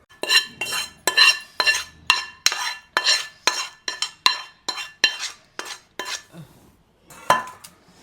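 A spoon stirring tomato pickle in a metal pan, scraping and clinking in a steady rhythm of about a dozen sharp strokes, close and clear with brief pauses near the end.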